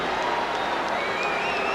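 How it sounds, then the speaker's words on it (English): A crowd at a drum corps championship awards ceremony reacts to announced scores with a broad, sustained roar and cheering that holds at an even level. "this crowd is reacting"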